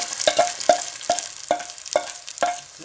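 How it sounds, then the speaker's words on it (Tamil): Onions fry in hot oil in a pan for an egg masala gravy, with a steady sizzle and a spoon scraping and stirring in a regular rhythm close by. "இது வதங்கட்டும். எண்ணெய் வதங்கிடுச்சு, வெங்காயம்,"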